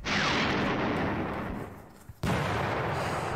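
Artillery fire in the wargame Panzer Campaigns Stalingrad '42: a loud booming roar that slowly fades, then a second sharp blast hits and rumbles on, near and with no talking.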